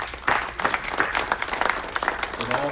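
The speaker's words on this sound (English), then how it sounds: "Let's give them a round of applause." Applause from an audience at a media briefing rises quickly and holds as a dense patter of clapping, with a voice briefly audible near the end.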